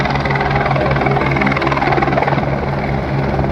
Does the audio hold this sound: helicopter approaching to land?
yes